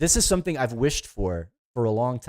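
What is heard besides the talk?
No distinct noise like a dog, phone or traffic.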